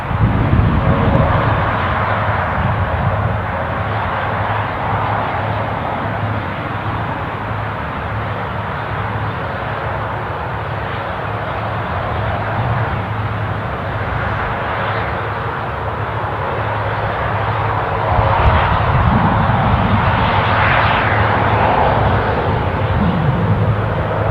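A Ryanair jet bound for Alicante at Newcastle airport, its engines producing a loud, steady roar that swells slightly toward the end as it starts rolling forward.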